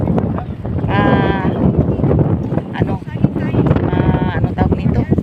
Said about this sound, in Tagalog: Yan, naririnig nyo yung hangin.